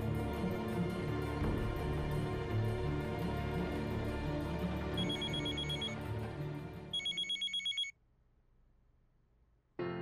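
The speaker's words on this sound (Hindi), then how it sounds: "श्रुति को फोन करता हूं।" A telephone rings in a Hindi TV serial scene, with ringing bursts starting midway over dense background music, then a few loud rings heard nearly alone before a brief silence.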